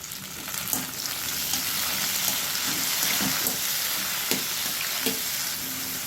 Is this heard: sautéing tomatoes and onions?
yes